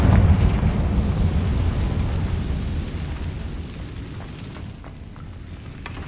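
A Confringo fire spell blast in Hogwarts Legacy, a loud booming explosion at the start that rumbles and slowly fades over several seconds, with a few faint clicks near the end and no talking.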